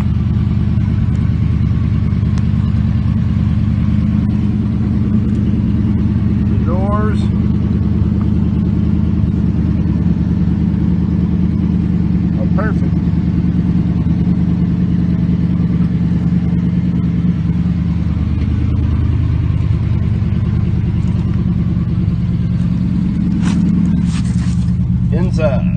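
A 1973 Buick Electra 225 coupe with a 455 engine runs steadily with a loud, even low rumble, a slight rise in revs near the end, and brief squeaks and voices occasionally over it.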